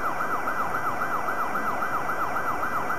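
A wailing police siren from the Amiga game The Killing Cloud, sweeping up and down in a steady repeating cycle, loud and continuous over an electronic background hum.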